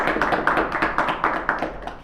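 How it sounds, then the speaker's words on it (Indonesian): Audience clapping at a Ramadan religious program, a steady run of quick, fairly close claps with a regular rhythm and no talking over it. "Beri tepuk tangan dan semangat buat kita semuanya."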